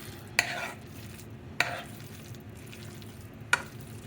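A shrimp and crab burger mixture is folded by hand or spoon, giving three short, sharp scrapes spaced about a second apart over a low, steady background hum.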